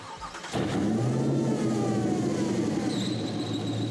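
Jeep Hurricane concept car with two Hemi V8 engines using multi-displacement cylinder shutoff starts up and revs, a steady loud engine roar that rises suddenly and holds with no talk over it.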